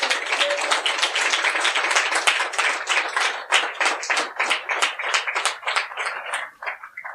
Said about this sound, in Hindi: आइए एक जोरदार ताली यीशु मसीह के नाम को हम देंगे।